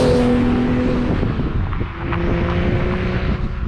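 A Nissan 370Z with a boosted engine of around 400 horsepower gives a continuous loud, close droning roar under wind noise, its pitch holding steady with a slight dip midway.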